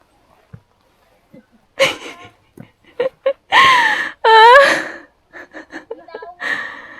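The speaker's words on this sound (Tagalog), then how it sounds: "Hinihingal ako. Hinihingal ako." Heavy, ragged panting and gasping breaths from a person winded after a steep hike and a long climb up stairs, loud and close, arriving in uneven bursts with short pauses between them.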